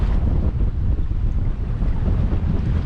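Strong wind roars across a sailboat under way with no reef in the sail, a loud, steady buffeting rumble that fills the whole stretch without a break.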